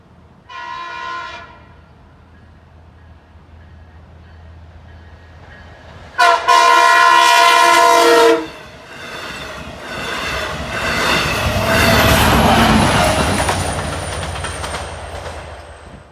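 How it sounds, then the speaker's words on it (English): A westbound LIRR express train from Montauk to Jamaica passes Oakdale station, its horn blaring in two long blasts before the loud roar and rumble of the cars rushing by and fading, with no talking. "Westbound train number 2 is an express run from Montauk to Jamaica"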